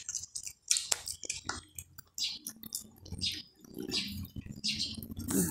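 A pig lying down eats its food with wet, smacking chews and soft clicks, close and fairly quiet, in irregular bursts with brief pauses.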